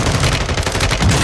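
Rapid gunfire in Call of Duty: Modern Warfare II Resurgence, a loud, dense burst of shots filling the whole moment with no talk over it.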